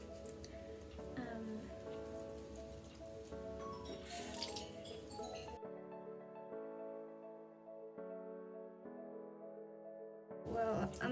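Water drips and squishes as a Beanie Boo plush toy is washed, with soft wet patter and pouring up close, then a stretch of quieter tonal background before the wet sounds return.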